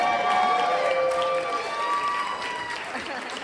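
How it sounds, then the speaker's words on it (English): Wedding guests applaud the bride and groom at a reception, a crowd's clapping mixed with cheering and a few overlapping voices, with tonal whistle-like sounds over it before it gradually fades. "Let's give Daniel and Sheena a big round of applause, ladies and gentlemen."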